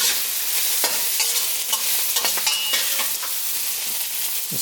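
Tofu seasoned with a garlic, salt and white pepper mix is stirred in a hot pan, with loud scraping strokes over a constant close sizzle and no talking.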